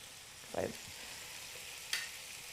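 Food browning in a Cuisinart MSC-600 multi-cooker gives a quiet, steady sizzle, broken by two brief utensil knocks or scrapes against the pot; no voices.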